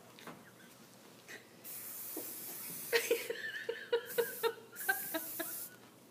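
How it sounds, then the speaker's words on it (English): Hairspray sprays from a can in several short hissing bursts, close and bright, with chuckling laughter in between. "How about some hairspray now?"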